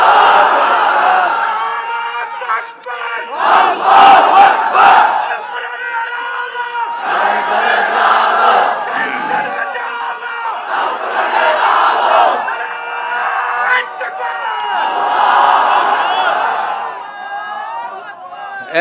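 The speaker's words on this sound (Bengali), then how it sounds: "দাও না তাকবীর যুবকরা" A large crowd of young men chants takbir in loud, swelling unison at a sermon gathering, several rising collective shouts in succession filling the space, near and powerful.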